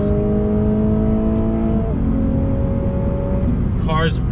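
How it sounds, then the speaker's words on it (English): A 2019 Lexus RC350 F-Sport accelerates in automatic mode, its engine drone rising steadily through the revs, dropping at an upshift, then climbing again, heard from inside the cabin with a brief rustle near the end. "real quick acceleration test"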